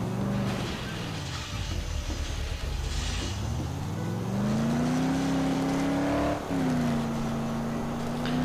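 A car driven in the video game Dead Island hums along with a steady engine drone that dips, then climbs in pitch as it accelerates, with a brief shift near the end, loud and continuous throughout.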